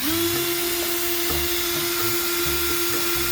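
A power drill whines at a steady high pitch, drilling out fasteners on a Dodge Challenger Hellcat, running continuously up close with small clicks and knocks underneath.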